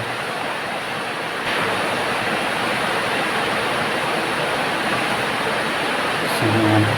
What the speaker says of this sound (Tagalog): tatapon ko lang yung tubig